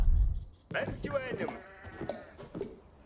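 Sheep bleating in the Age of Empires video game, one short bleat at the start followed by the game's sounds while people talk over it.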